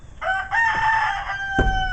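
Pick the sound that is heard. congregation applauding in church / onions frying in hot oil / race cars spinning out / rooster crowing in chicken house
rooster crowing in chicken house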